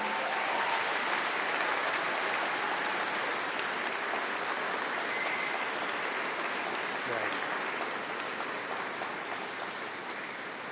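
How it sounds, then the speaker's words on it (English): A university graduation ceremony audience gives the graduands a big round of applause and cheering, a thick, sustained roar of clapping that fills the hall and stays loud for the whole stretch, easing off only slightly near the end. "give a huge cheer and round of applause for everyone in front of you"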